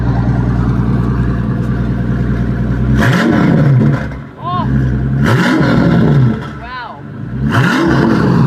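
A deep engine in a Maybach Exelero concept car idles steadily, then revs hard in repeated surges, each climbing and falling, with a brief exclamation from a person between revs.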